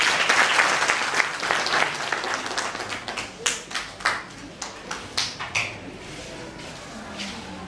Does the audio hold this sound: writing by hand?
no